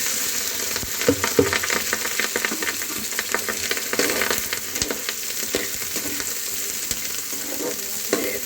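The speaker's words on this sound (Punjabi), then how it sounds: "ਇਹਨੂੰ ਅਸੀਂ ਤਦ ਤੱਕ ਭੁਜਣਾ ਹੈ ਜਦ ਤੱਕ ਇਹ ਸਾਡੇ ਪਿਆਜ਼ ਚੰਗੀ ਤਰ੍ਹਾਂ ਲਾਲ ਨਹੀਂ ਹੋ ਜਾਂਦੇ" Onions and green chillies fry with ginger in a pan for paneer bhurji, a constant crackling sizzle layered with busy spatula stirring and scraping, close up and uninterrupted by speech.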